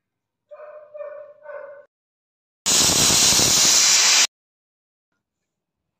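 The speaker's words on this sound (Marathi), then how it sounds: "कुकरच्या 3 शिट्ट्या करून घेते." A pressure cooker cooking dal lets out a single loud, close burst of hissing steam lasting under two seconds, preceded by a brief rising whine and then silence.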